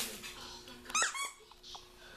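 A squeaky Loki plush toy gives a couple of short, high squeaks amid noisy convention chatter and background voices, fairly close.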